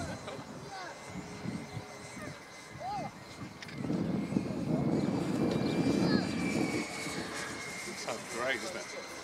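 Hobbyking Vampire radio-controlled jet with a 70mm electric ducted fan flying past outdoors, a steady whooshing whine that swells louder for a few seconds mid-pass, with people talking and birds chirping in the background.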